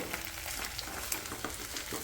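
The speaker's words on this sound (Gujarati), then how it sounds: "અને મસ્ત વઘાર કરીશું" Muthiya dumplings with sesame and coriander sizzle in a hot oil tempering, a faint continuous crackle with small pops and no talking.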